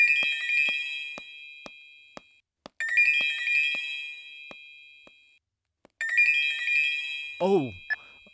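A phone ringtone plays repeatedly in bursts, a bright melodic ringing pattern with short pauses between rings, ending with a brief rising tone.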